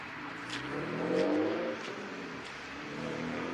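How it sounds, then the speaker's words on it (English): Street traffic with a BMW inline six-cylinder engine revving briefly through a loud aftermarket muffler, swelling then settling to a steady rumble among general road noise. "Typical BMW, inline 6-cylinder."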